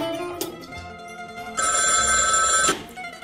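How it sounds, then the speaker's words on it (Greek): A telephone bell rings loudly nearby in one sustained burst of rapid metallic trilling, preceded by some quieter room noise and a soft knock. "τηλέφωνο σου πάει."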